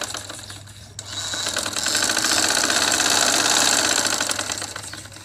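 A sewing machine stitches a suit seam at home, running close and steady with a rhythmic mechanical hum that builds after a brief start and holds at a constant loudness, with no talking.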